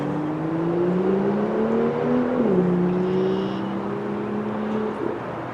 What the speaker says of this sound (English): That was a paddle shift automatic there.